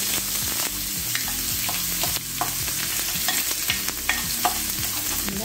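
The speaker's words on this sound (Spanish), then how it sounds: "Entonces aquí agregamos la cebollita." Chopped onion hits hot oil over high heat and is stirred, giving a steady close sizzle with scraping stirs throughout and no talking.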